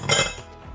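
A metal cooling rack set down on a lemon pound cake in its pan before the pan is flipped, giving one short clatter of metal and cookware that quickly fades.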